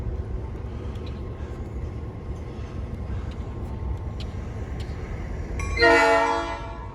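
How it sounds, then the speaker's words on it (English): Steady low rumble of a departing train moving along the tracks in Old Sacramento, then a loud horn blast near the end, close by. "Train's about to leave."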